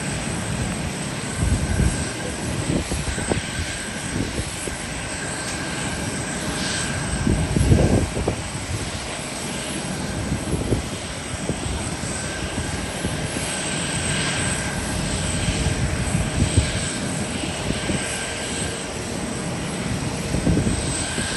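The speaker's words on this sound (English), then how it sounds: "Did anybody see where that plane departed to?" A jet airliner departing Haneda Airport, heard as a steady loud engine roar that carries on for about twenty seconds, with broad rumble and slight swells in level and no talking.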